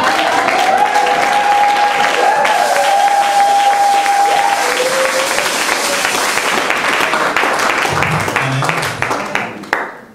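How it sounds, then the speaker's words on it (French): Loud, sustained applause from a church congregation, dense clapping with some cheering that holds strongly for most of the stretch before thinning out and fading near the end. "Acclamez pour vous-même."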